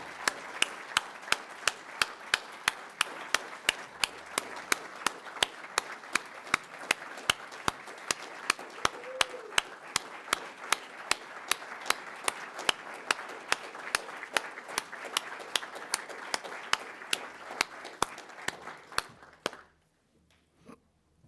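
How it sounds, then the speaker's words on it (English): At a university journalism writing awards ceremony, a small audience claps for an honoree. The fairly faint clapping is steady and evenly spaced for about nineteen seconds, then stops abruptly. "I would like to ask all of you to join me in giving Dan a round of applause"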